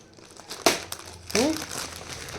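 Plastic packaging wrap from a Cellecor 800W room heater crinkles as Dora plays with it: a sharp rustle, a quieter stretch, then a louder, longer burst of crackling, with a brief tonal whine-like sound mixed in.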